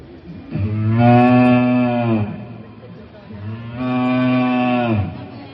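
A person imitates a cow mooing at a school mimicry competition, giving two long, loud, drawn-out lowing calls close to the microphone, with a short pause between them.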